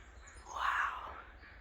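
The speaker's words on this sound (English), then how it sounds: "What is that bird?" A single harsh bird call rises and fades over about a second, heard outdoors at moderate distance against quiet background noise.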